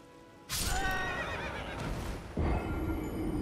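A horse in Elden Ring gives a loud, close, drawn-out whinny as it dies, with a heavy thud partway through and no talk over it.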